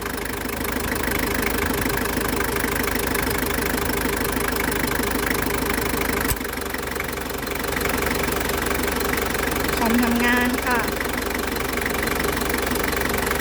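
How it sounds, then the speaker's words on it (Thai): A Toyota Hilux Hero pickup engine idles close by with the air conditioning off, a continuous low rumble with faint knocking, broken by a brief click partway through. "นี่ก็จะเป็นเสียงของเครื่องยนต์นะคะ"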